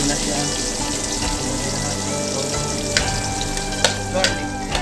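Onion frying in a pan while cooking oysters with soup, a loud, close, continuous sizzle with a few sharp stirring clicks near the end.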